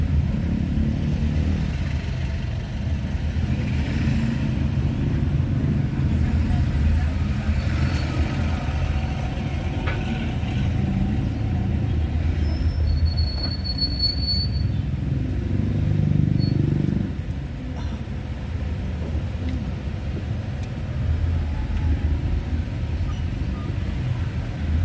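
Congested road traffic of cars and motorcycles, a steady low engine rumble and idling drone with swelling passes, a few faint high squeaks and beeps, continuous and nearby, no talking.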